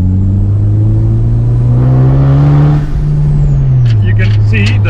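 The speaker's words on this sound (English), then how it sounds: "The sound of the turbo and the noise of the exhaust go separately." A tuned Honda CU2 turbo engine runs on a dyno, a loud steady exhaust drone with a rising turbo whir that sweeps up, then settles, with a few sharp bursts near the end.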